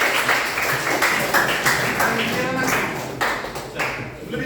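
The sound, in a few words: students clapping hands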